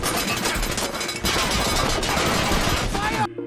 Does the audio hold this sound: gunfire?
yes